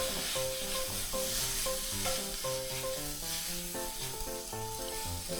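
Glass noodles stir-fried in a pan with sweet basil and holy basil leaves, the heat switched off: a steady hiss and sizzle with stirring, largely covered by louder background music with clear melodic notes.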